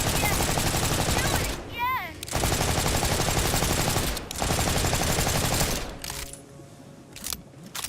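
Weapon fire in the video game Borderlands 4: loud, sustained rapid bursts of gunfire with brief pauses between volleys, ending in quieter, sparser shots.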